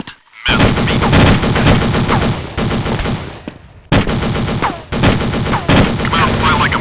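Dense, loud bursts of automatic gunfire during a port battle in Counter Strike, rattling almost continuously with brief gaps between volleys.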